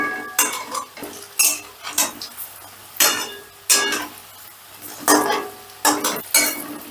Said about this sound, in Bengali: এবারে আমি উল্টে দিচ্ছি।